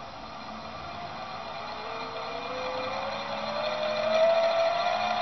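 Peristaltic pump running up to full speed: a steady close mechanical whir and hum that gradually rises in pitch and loudness, with no talking.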